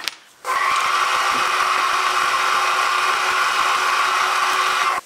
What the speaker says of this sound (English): slide them in and drill the holes